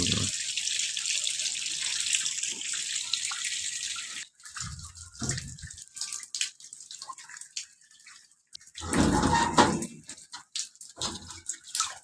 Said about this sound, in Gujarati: જો આખા ઘરમાં પાણી પડે.